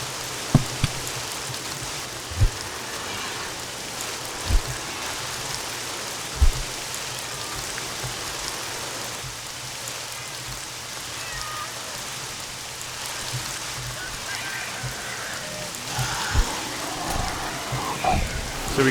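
Steady rainfall during a rainstorm in the CHKN video game, a continuous broadband hiss with occasional soft low thuds and brief faint sounds mixed in, no talk.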